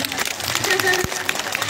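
Applause from an outdoor audience at a live bhajan performance, a dense steady patter of clapping throughout, loud and close with voices mixed in.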